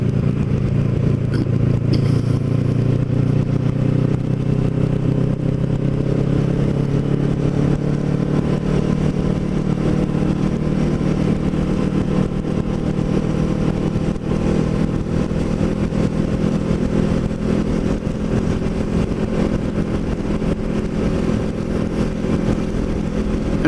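Kawasaki Ninja 650R motorcycle ridden along the bay in Lower Township, a steady loud engine drone with wind rush throughout, gear and throttle shifts early on, no talking.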